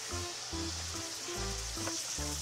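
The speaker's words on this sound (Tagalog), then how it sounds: "Gisa-gisahin lang natin yan, guys" Food sautés in cooking oil in a pan with a continuous close sizzle, while rhythmic tonal bursts of background music play alongside.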